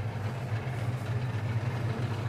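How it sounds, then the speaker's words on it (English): Engine of a 1935 Rolls-Royce 20/25 limousine with Windovers coachwork idling after a jump start, a steady low rumble close by with no talk. "I've left the engine running because I've had to jump start this morning and I don't want to be doing it again"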